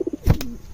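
A pigeon gives a single short, throaty coo nearby, preceded by a few soft low pulses, in an overcast outdoor setting.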